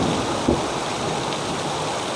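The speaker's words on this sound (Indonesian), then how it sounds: "Tuh, hujan bos." Heavy rain pours down in a continuous loud roar, with a brief low rumble of thunder mixed in.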